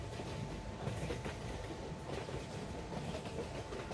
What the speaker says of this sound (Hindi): हम अपनी ट्रेन को स्पीड को बढ़ा दिए हैं